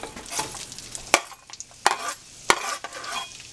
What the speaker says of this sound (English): So now we're gonna add the onions to the pan.